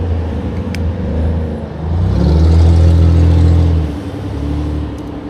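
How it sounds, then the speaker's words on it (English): Cars circling a roundabout beside the Montour Trail near Peterswood and McMurray in March, a steady low engine rumble and tyre whir that swells as a vehicle passes close, then eases, with no talk. "It's fun just to watch these cars going around this roundabout."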